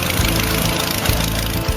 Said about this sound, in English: Nothing else sounds quite like that gypsy engine in a Tiger Moth.